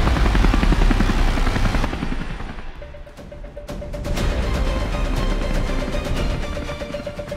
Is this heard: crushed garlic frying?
no